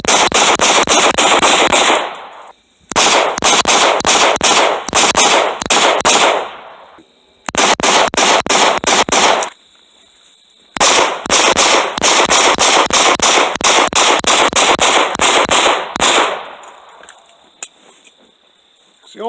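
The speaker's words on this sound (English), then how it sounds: "I think we need to do some mag dumps." Rapid magazine dumps from a firearm at a shooting session: three long bursts of fast, loud, sharp shots in quick succession, separated by short silent gaps, with a fainter crackle of reports trailing at the end.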